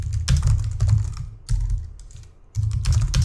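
Code typed on a computer keyboard, steady clusters of close, crisp key clicks with brief pauses between bursts, no talking.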